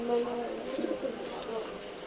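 Soft, low pigeon coos repeat a few times against a steady background hum at a pigeon market in Khulna, fairly close but quiet.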